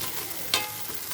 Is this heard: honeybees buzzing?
no